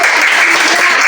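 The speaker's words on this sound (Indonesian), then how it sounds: "Beri tepuk tangan dulu ya untuk Agus." Classroom students clapping together in a steady, dense burst of applause during a science lesson, loud and close throughout the short moment.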